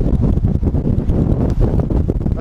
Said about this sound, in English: That's how windy it is out here.